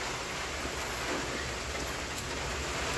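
Rain pours down steadily around a hut, a dense constant hiss of drops hitting surfaces, loud and close, with no break and no voices.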